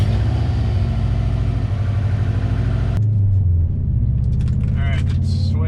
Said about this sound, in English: the sway bar is on the car, and we're out on a test drive